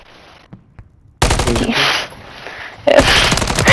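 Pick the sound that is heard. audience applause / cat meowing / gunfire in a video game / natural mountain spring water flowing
gunfire in a video game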